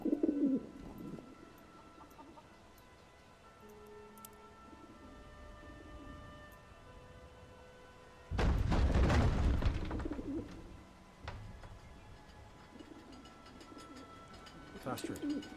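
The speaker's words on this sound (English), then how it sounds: "Very loud pigeon." Loud, throaty pigeon cooing from a video game comes in brief bursts against quiet game ambience, with a sudden loud noisy surge in the middle and voices nearby.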